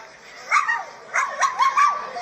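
A dog out on a walk along a public street barks and yips in a quick series of sharp, close, loud calls, one early bark followed by a rapid cluster of four.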